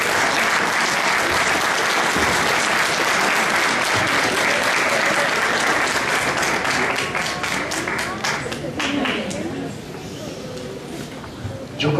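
An audience at a national pact gathering breaks into sustained, loud applause, a thick crowd of clapping that stays full for most of the stretch before gradually thinning out into scattered claps.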